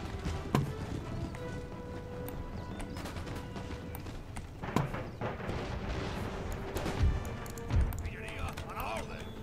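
Horse guards cavalry galloping across the battlefield in Empire Total War, rapid hoofbeats mixed with distant artillery booms and crashes, steady battle ambience throughout.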